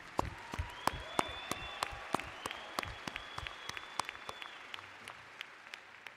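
Commencement ceremony audience giving a round of applause for veterans, quiet, scattered clapping with distinct individual claps, while a voice carries on in the background.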